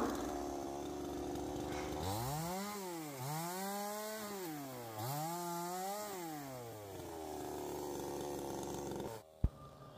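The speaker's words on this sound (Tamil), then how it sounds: "அதுக்கப்புறம் நம்ம நீட்டாக வந்து அந்த மரத்தை வந்து கட் பண்ணிடலாம்." A chainsaw cuts through jackfruit tree wood outdoors, loud and close, its engine pitch rising and falling in repeated surges as the blade bites in, ending with a sharp knock.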